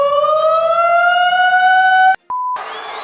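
An air-raid style siren sound effect wails loud and steady, its tone slowly rising, then cuts off abruptly, followed by a brief flat beep and a burst of noisy static.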